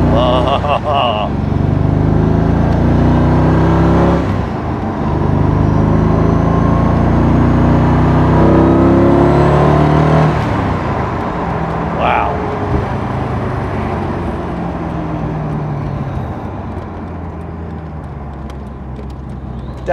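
A 1999 Shelby Series 1 sports car engine accelerating through the gears, a loud close-up roar that climbs, then eases off at a shift while road and cabin noise continue.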